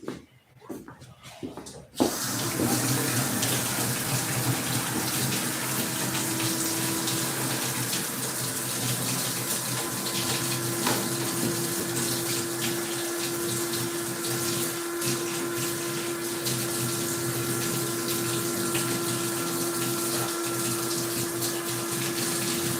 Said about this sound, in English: Better wash our hands.